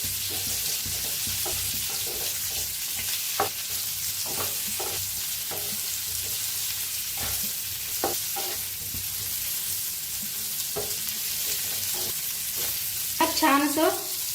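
Sliced bitter gourd (karela) frying in hot oil in a pan, with a continuous close crackling sizzle and frequent light scrapes as the pieces are stirred and turned.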